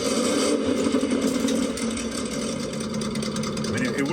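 A crawler vehicle nicknamed the banana runs with a loud exhaust, a steady close engine drone holding throughout with a slightly rough, buzzing tone.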